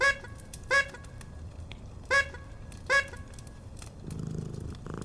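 A kitten in the Christmas Stories video game makes four short, rolling purr-like trills in an uneven rhythm over a low background hum.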